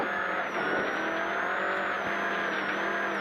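A Skoda rally car driving a gravel stage at the Otago round of the New Zealand Rally Championship, its engine holding a steady, loud, continuous roar throughout with no one speaking.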